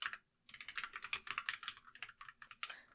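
Quick bursts of typing on a computer keyboard, close and quiet, with irregular clusters of key clicks and a short pause near the start.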